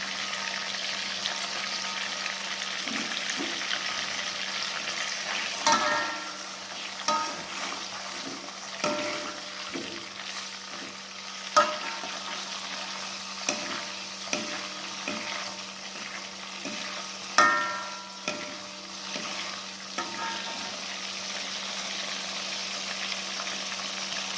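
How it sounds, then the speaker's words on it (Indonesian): Steady low sizzle of chicken frying in butter and margarine, with intermittent clinks and scrapes of stirring in the pan, no voices. "lalu kita goreng dengan mentega juga margarin supaya lebih wangi ya guys"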